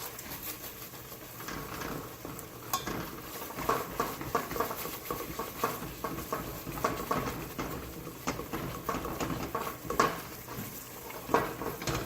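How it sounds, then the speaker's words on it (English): A spoon scrapes and taps against a pan while vegan Spanish rice is stirred, producing soft, irregular clinks and gritty patter that stay fairly quiet and close throughout. "just keep stirring it. Make sure it's not sticking."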